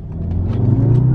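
An Audi car engine revs up as it accelerates, a loud, close, deep rumble that rises and builds over about a second.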